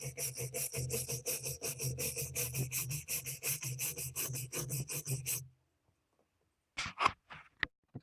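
A rusty axe head is scrubbed with a wire brush in fast, rhythmic rasping strokes for about five seconds. After a pause come a few short, sharp scrapes.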